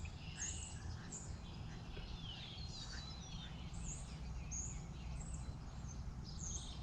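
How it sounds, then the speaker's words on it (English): Several birds chirp and tweet at a distance at sunrise, short bright calls scattered over a low, steady outdoor rumble. "birds are chirping, and sun's coming up"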